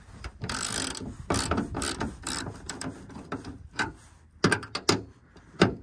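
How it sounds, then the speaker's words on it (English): Ratchet with a 13 mm socket tightening bolts while a carbon wing is fitted to a Ford Mustang GT: rapid, close metallic clicking in repeated bursts, louder strokes toward the end, no talking. "it's a 13 millimeter socket."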